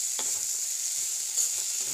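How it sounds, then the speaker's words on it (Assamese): Cut potatoes and radish frying in a pan give a bright, steady hiss, with a few soft stirring scrapes of a spatula close by. "কটা আলুখিনি দি দিম। অলপ দি বনি ল'ম।"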